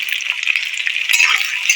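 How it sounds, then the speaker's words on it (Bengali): Chopped onion and vegetables frying in oil for mixed fried rice, a steady close bright sizzle with light stirring scrapes throughout, no talking. "সবজির সাথে আমি পেঁয়াজটা ভাজবো।"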